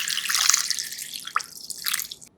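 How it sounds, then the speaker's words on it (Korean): Water is poured into a bowl of sliced lotus root, making a steady, close, bright splashing trickle that briefly swells near the end before stopping, with no talk. "물을 잠기도록 부어주세요."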